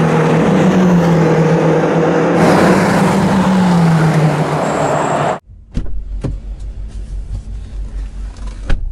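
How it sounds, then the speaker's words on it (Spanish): 2015 BMW X6M with a V8 engine driving on a race circuit at Circuit of the Americas in Austin, Texas, a loud sustained engine roar with rising and falling pitch that cuts off abruptly, then lower rumbling road and wind noise. "vamos a nuestro turno a ver qué podemos hacer manejando el BMW X6M 2015 aquí en el circuito de las Américas"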